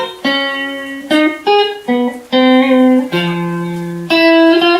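A simple microtonal melody built on a 7-limit 12-tone row, played as about eight clear, sustained pitched tones of varying length, bright and loud, with no voices.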